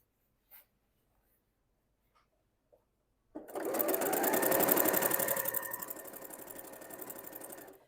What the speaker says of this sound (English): begin sewing all the way down to the next corner